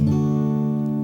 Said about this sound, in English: when you hear me strum a group of notes like this